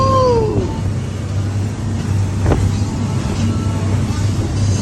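Sport fishing boat with four 650 hp outboard engines running at speed offshore near Cabo San Lucas, a loud steady engine roar with a constant low hum and rushing wind and water noise throughout.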